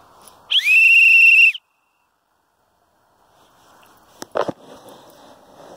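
A single loud, shrill blast from a lifeguard whistle held for about a second, then silence, followed by faint rustling and a couple of sharp clicks.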